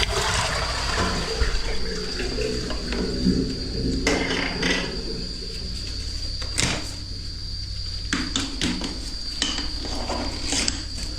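A toilet flushed during drain cleaning: a steady, close rush of water that runs the whole time, with a few sharp knocks and clunks breaking through the flow.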